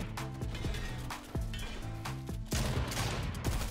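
Rapid video game gunfire, a series of sharp close shots in an uneven burst pattern over a busy game soundscape.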